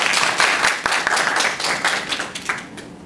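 An audience at a forum gives welcoming applause for a speaker, a dense burst of many hands clapping that spreads through the hall and slowly fades.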